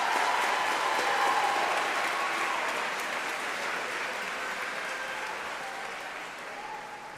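A large audience at a high school commencement claps steadily in dense, sustained applause that fades gradually over several seconds.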